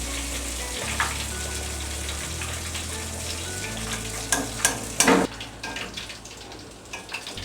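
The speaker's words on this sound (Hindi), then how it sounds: "चिकन पीसेस फ्राई हो गए हैं" Crumb-coated chicken pieces for a zinger burger deep-fry in hot oil with a loud, steady, close sizzle, broken near the end by a few sharp clinks and stirring splashes; no one speaks.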